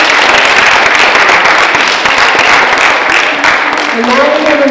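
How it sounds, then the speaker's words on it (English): Students at a high school honor roll assembly are cheered by an audience with dense, continuous clapping that holds steady from start to finish, loud and close, with some voices mixed in. "Let's give your peers another round of applause for their accomplishments."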